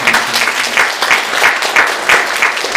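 Loud, lively applause from a church congregation cheering on the choir during Sunday worship, a dense wash of many hands clapping close by, with slight rhythmic surges.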